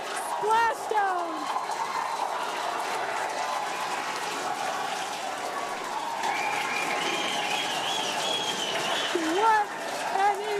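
A crowd cheers and applauds as a SpaceX booster splashes down in water, a steady loud roar with whistles running through the whole stretch while voices talk over it.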